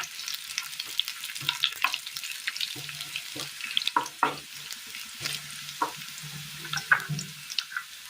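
Shallots and dried red chillies fry in a pan for a Kerala curry, giving a steady close sizzle broken by frequent clinks and scrapes of stirring. There is no talking.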